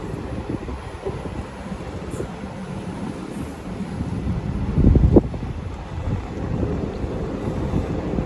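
Passenger train pulling into platform 1 at a railway station on the daily Palitana to Bhavnagar sleeper run, a steady rumbling rolling roar with wind buffeting, one louder clunking surge midway, no talk.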